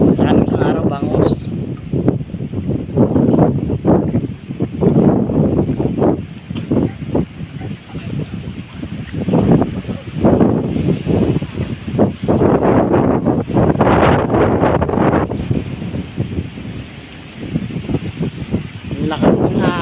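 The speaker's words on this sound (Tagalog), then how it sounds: "Ang lakas ng hangin eh." Strong wind buffeting the microphone in gusty bursts at a flooded fishing village during a typhoon, loud and close, with someone talking intermittently over it.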